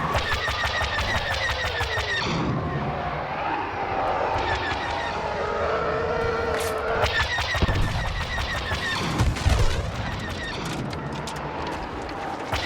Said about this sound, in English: blaster sounds, explosions, the music, the effects